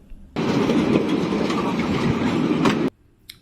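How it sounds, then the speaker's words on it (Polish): A tram rolls past on a city street in the Ferentari district of Bucharest, a loud, steady rumble with faint clattering that rises abruptly, holds for about two and a half seconds and cuts off sharply. "Tramwaj jedzie"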